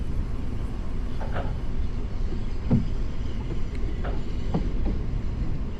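A London train in the Train Operator 377 driving simulator rolls along with a steady low rumble and faint rhythmic clicks of wheels over rail joints, loud and continuous throughout.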